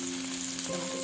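Shallots and chilies frying in a pan, a dense steady sizzle with fine crackle and a faint tonal hum underneath, continuous for about a second.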